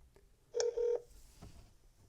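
Two short telephone keypad tones beep in quick succession over a speakerphone, clear and close against a faint background hiss, with no speech.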